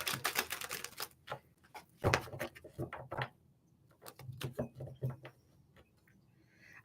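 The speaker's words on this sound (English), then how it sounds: "All right, one more shuffle here." Tarot cards being shuffled during a live psychic reading, a run of quick papery riffles and soft taps with a brief pause partway, fairly close and alone.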